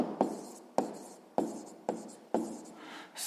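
Pen writing in a notebook during a sixth-grade maths exercise: five rhythmic scratchy strokes roughly half a second apart, each starting with a sharp tap, close and quiet, with no voice.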